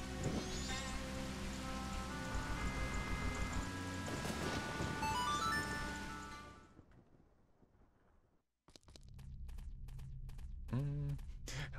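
Rain falls in Zelda: Majora's Mask as a continuous hiss beneath background music for about seven seconds, then fades out into near-silence before other game sounds take over.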